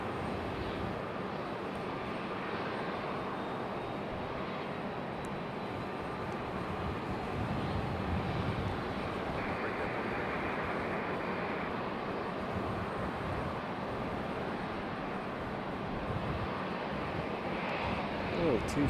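A Boeing 757 airliner at Raleigh-Durham airport produces a continuous distant engine rumble and whine, moderately quiet and steady, with a faint tonal hum layered in and some background noise.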